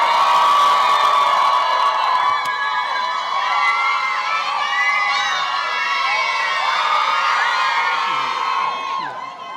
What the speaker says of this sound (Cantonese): 我哋俾熱烈掌聲，我哋有請 Tiger